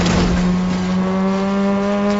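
A vehicle being driven in Fortnite, a close, loud steady engine drone holding a constant pitch with a gritty rumble underneath, no pauses.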